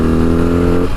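A BMW R18 First Edition motorcycle pulls uphill in second gear at about 40 mph, a loud, close, steady engine drone with a slight shift in tone just before it ends.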